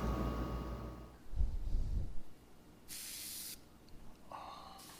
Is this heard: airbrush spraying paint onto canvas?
yes